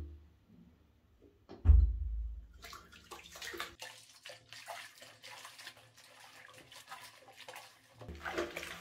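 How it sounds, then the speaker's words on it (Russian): Goat down garment being hand-washed in a basin of soapy water, with sloshing and splashing that starts abruptly and continues steadily, close and moderately loud, with no talking. "вот такими движениями хорошенько стираем"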